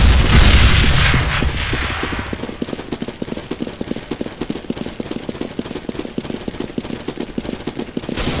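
A grenade blast in the CS:GO video game opens with a heavy boom that fades over about two seconds, then a long run of rapid, evenly spaced gunshots keeps going to the end, loud and close.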